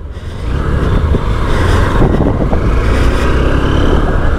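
A Honda CB200X motorcycle being ridden gives a steady, loud engine drone with wind rush, its low throb holding constant throughout without a break.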